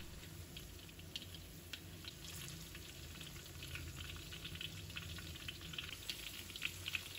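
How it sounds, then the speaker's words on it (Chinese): Scallion leaves slowly frying in oil in a wok over low heat, a faint, even crackle and patter with a few soft stirring scrapes and no talking. "接着再把葱叶放入锅中，继续小火慢熬，过程跟刚刚一样，时不时的翻动"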